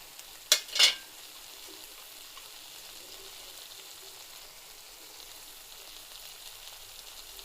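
Grated ridge gourd dropped into a curry frying in a pan, two quick splashy bursts near the start and then a faint, steady low sizzle continuing alone.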